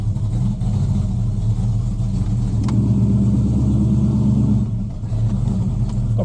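A Ford XW car drives up and down the block after a brake fluid flush, its engine rumbling steadily and loud up close throughout, with a brief lull near the end.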